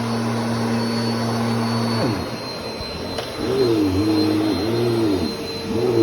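Bissell Power Force Compact vacuum cleaner running on carpet in an apartment, a loud steady motor whine that drops in pitch, then wavers up and down as the load changes while it is pushed across the pile.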